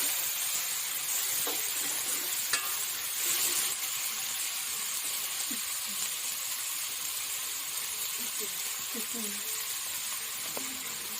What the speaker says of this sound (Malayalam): ഈ സബോള ചേർത്ത് കൊടുത്തതിന് ശേഷം നന്നായി ഒന്ന് ഇളക്കി കൊടുക്കുക